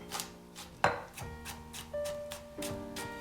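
Kitchen knife slicing garlic cloves lengthwise on a cutting board, a few sharp separate cuts with short pauses between them, close and fairly quiet.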